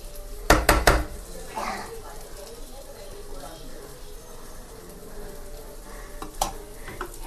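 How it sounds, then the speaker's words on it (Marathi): Fish fry in a pan in a home kitchen with a low, continuous sizzle. A few sharp clatters of utensils come near the start and again later, under a person talking. "ह्या साईडला मच्छी पण फ्राय होते."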